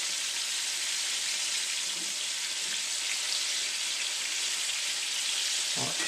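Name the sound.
saugeye fish pieces frying in a pan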